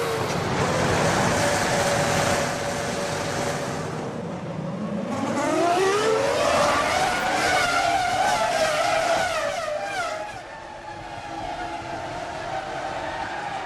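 Formula 1 cars leaving the grid at the 2005 French Grand Prix, a loud roaring wall of engines rising in pitch as they accelerate away together, then fading slightly.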